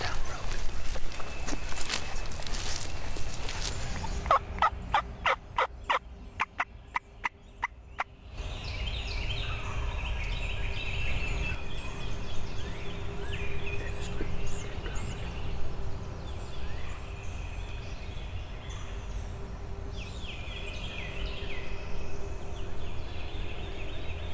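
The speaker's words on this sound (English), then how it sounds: "two, two gobblers." Wild turkey gobblers gobble repeatedly in the field during a hunt, loud and close, with several rattling calls over a noisy outdoor background, plus soft footstep-like rustles and a burst of rapid clicks early on.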